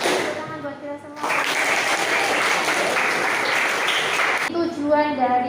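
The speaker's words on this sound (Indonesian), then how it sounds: "Tepuk tangan buat kita semua." A classroom of students clapping hands together in a loud, sustained burst lasting a few seconds, with a teacher's voice speaking before and after it.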